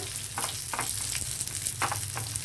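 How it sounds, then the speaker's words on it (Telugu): Raisins fry in hot ghee for ragi vermicelli kheer, a loud continuous sizzle with several short bursts of crackle as they are stirred around the pan. "ఇప్పుడు కిస్మిస్లు వేద్దాం ఇవి కొంచెం వేగితే చాలండి"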